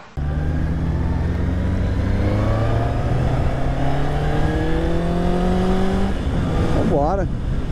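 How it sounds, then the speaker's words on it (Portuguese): Honda CB650R 2024 four-cylinder motorcycle engine revving up through rising pitch with a smooth high-revving howl, loud and close, then dropping off near the end. "E o barulho dos quatro cilindros, hein, rapaziada?"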